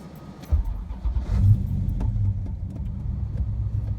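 A 1971 Plymouth Duster engine cranks and catches about half a second in, then settles into a steady, close idle rumble.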